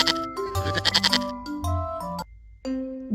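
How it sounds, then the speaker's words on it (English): A goat bleating, several wavering, nasal cries close by over a cheerful, tinkling tune that keeps playing, with a short pause before a final note. "Goat, goat."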